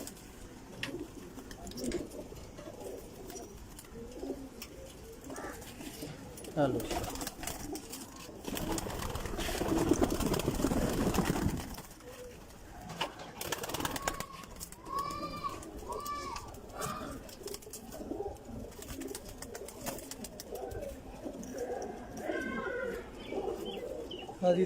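Pigeons in a rooftop loft coo on and off, with a noisy burst of fluttering or wind near the middle, then a run of chirpier calls, and brief speech in the background.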